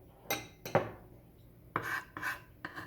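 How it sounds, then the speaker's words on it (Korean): Salt-soaked kelp is cut into small pieces with a knife on a board, a handful of separate crisp chops and scrapes spaced irregularly, close up with no talk. "미리 소금을 우려낸 다시마를 잘게 잘라 준비합니다"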